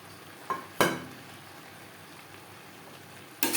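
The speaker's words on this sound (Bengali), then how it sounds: "মশলার সাথে আলু ও এঁচোড় 3-4 মিনিট নাড়াচাড়া করে নেব" Boiled potato and jackfruit are stirred into fried spices in a pan, producing a few sharp scrapes and clinks over a soft background sizzle, close up and without talking.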